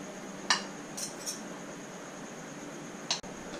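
Mackerel and sauce being mixed with rice on a plate, heard as a few faint, sparse clinks of utensil against plate, spaced out over a quiet room background.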